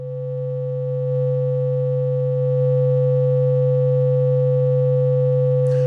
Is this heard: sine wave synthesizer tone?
yes